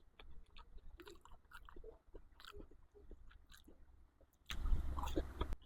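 Crispy chicken nuggets are bitten and chewed close up, with soft crunching and mouth sounds that swell into a louder burst of crunching near the end.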